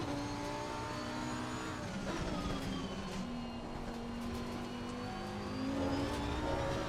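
A race car in Assetto Corsa Competizione accelerates out of a corner, its engine tone rising and sliding through gears in a steady, fairly quiet drone with no talk.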